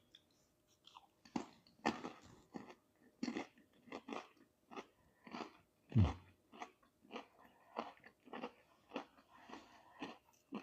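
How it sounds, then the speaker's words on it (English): Crackers and plant-based black pepper jerky with eggplant chunks being chewed, a steady run of close, crunchy and moist bites repeating through the whole stretch with one sharper thump midway, no talking. "It takes a second to get that jerky chewed in a bit"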